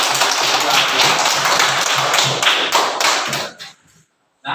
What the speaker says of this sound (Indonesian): mari kita berikan tepuk tangan yang meriah untuk diri kita